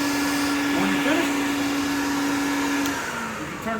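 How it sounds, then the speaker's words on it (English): A Clarke TFC400 floor cleaner's vacuum runs with a steady, loud whirring drone that holds level for several seconds before easing slightly toward the end. "you can turn that vacuum off"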